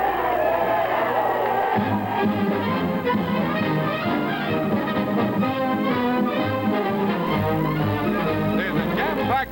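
A crowd of 60,000 at Comiskey Park for the Jim Braddock vs. Joe Louis heavyweight title fight makes a continuous, distant roar and cheer, heard under a narrator's voice on an old, hissy newsreel recording.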